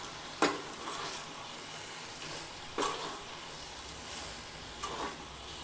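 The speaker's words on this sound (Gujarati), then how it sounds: "પાસ્તાને આપણે મસાલાની સાથે સારી રીતે મિક્સ કરી દેવાના છે." Masala pasta being stirred in a kadai, with a few distinct scraping strokes of a spoon against the metal pan over a soft, steady sizzle.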